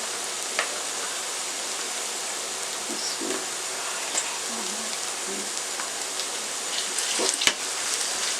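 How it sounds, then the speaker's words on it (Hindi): Onions with garlic paste frying in a pan, a steady soft sizzle with occasional faint pops and light stirring clicks, heard alone at a fairly quiet level. "1 मिनट के लिए फ्राई कर लें।"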